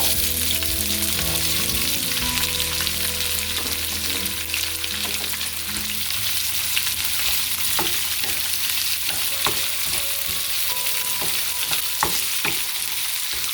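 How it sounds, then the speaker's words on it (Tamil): Sliced onion with a little ginger frying in a pan, a continuous close sizzle with occasional spatula stirs and scrapes and no one speaking. "நல்லா ப்ரௌன் கலர் ஆகிற வரைக்கும் ஃப்ரை பண்ணிக்கலாம்"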